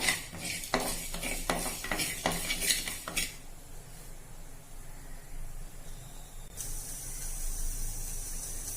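Ingredients for Kerala pulinkari being lightly roasted in a pan: a quick run of clanking spatula-on-metal scrapes and stirs, then a quieter stretch of faint sizzling that swells into a steadier hiss toward the end.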